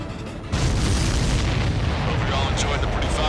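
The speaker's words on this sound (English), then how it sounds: "Everybody, keep a safe distance to avoid getting caught in the explosion." A missile explosion destroys a supply ship in the Ace Combat 7 video game: a loud, sustained roaring blast that swells in and rumbles on without easing.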